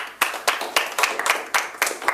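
Clapping for two university teams on a Nigerian accountancy quiz show comes as a quick series of sharp, fairly close claps in an uneven rhythm, with no voices over it.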